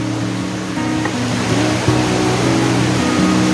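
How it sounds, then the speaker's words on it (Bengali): A swollen monsoon waterfall on Ajodhya Hill pours down with a loud, steady broadband rush. A low droning hum runs underneath, and no one speaks. "তোমরা অলরেডি ঝর্ণার আওয়াজ শুনতে পেয়ে গেছো।"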